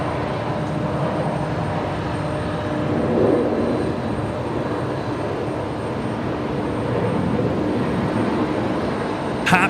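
Jet airliner, a Qantas 737, landing on the new parallel runway at Brisbane Airport: a steady, fairly distant broadband roar that holds level throughout, with no voices.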